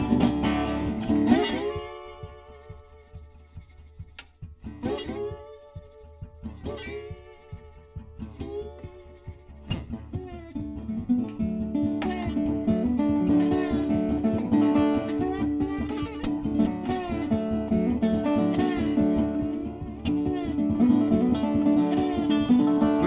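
Guitar imitates a big train squalling as it takes a turn, in a blues piece about the Panama Limited. Sharp sliding wails open it, then a loud, steady churning rhythm builds and keeps going, with no talking.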